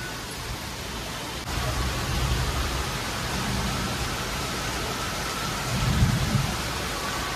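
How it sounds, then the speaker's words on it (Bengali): Heavy rain pours steadily, with low rumbles of thunder rolling underneath and swelling near the end. "প্রচন্ড জোরে বৃষ্টি পড়ছে"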